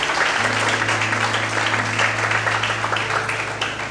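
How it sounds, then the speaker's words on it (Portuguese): Loud, sustained applause from a large church congregation, steady throughout with a low hum beneath it. "Quantos podem aplaudir e exaltar a Deus nessa noite?"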